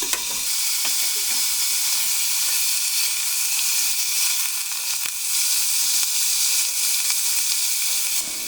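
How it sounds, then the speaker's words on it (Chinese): Beef chunks and sliced garlic searing in butter in a hot cast iron pot, a loud continuous sizzle and hiss filling the whole stretch with a few faint clicks of stirring. "铸铁锅大火烧热后，放入10克黄油，加入蒜片和牛肉块。"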